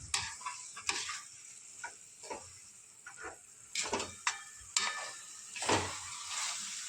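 Mashed eggplant bharta with chopped green garlic is stirred in a pan, giving soft, intermittent scraping strokes over a faint sizzle, quiet and close, with no talking.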